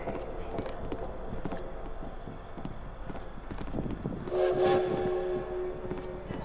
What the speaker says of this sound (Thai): รถไฟอย่างนี้มันขึ้นได้ด้วยหรอ